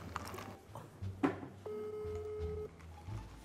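Telephone ringback tone of an outgoing call, a steady two-pitch tone lasting about a second, at moderate level over faint room noise, preceded by a short clatter.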